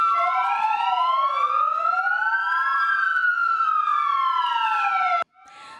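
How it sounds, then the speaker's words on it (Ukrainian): A loud, close fire siren wails continuously at a Kyiv rescuer's funeral, its pitch sweeping up and down in long overlapping rises and falls before cutting off abruptly. "В його честь востаннє зазвичала пожежна сирена"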